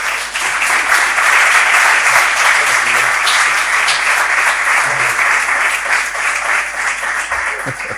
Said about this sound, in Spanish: Un aplauso ya solo empezando.